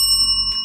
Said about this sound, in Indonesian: aktifkan lonceng notifikasinya